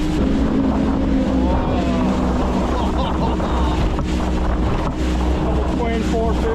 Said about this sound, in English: Twin 450, 500 Mercury racing motors.